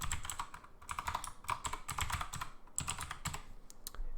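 Someone types an email address on a computer keyboard, a quick irregular run of close, quiet key clicks in short bursts.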